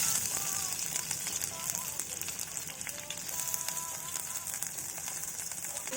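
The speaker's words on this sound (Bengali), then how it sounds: "তেলটা গরম হয়ে গেছে, এখন আমি পেঁয়াজগুলো দিয়ে দেবো।" Onions sizzling and crackling in hot oil in a pan for a tomato and egg stir fry, a steady close frying hiss running throughout with no talk.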